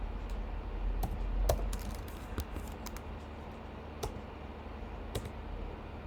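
Rapid clicking keystrokes on a computer keyboard in a Linux terminal session, close and fairly quiet, irregular bursts of taps with a few sharper key hits and no speech.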